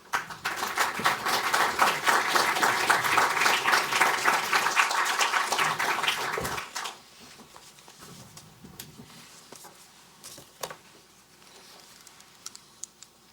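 Audience applause welcoming a speaker to the stage at a talk, loud and steady clapping from a crowd for about seven seconds, then dropping to scattered faint claps and room noise.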